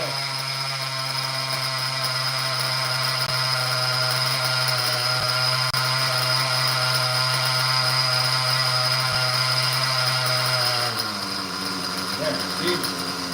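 RC model engine settling into a two-stage idle, a steady buzzing drone with strong harmonics that holds evenly, then drops to a lower, rougher idle near the end.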